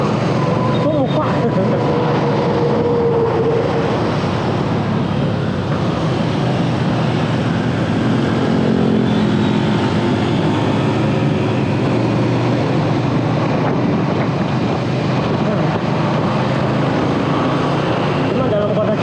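Wind buffets and roars past while riding a motorcycle in traffic, a loud, continuous rushing noise mixed with engine drone that rises and falls over the whole ride.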